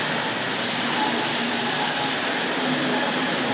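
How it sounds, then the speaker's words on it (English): A Tri-ang model railway diesel locomotive runs along the track of an old-time Western layout, giving a steady, dense rumbling whir that holds even and fairly loud throughout, with no talking. "The diesel locomotive is going to come storming under the elevated track there"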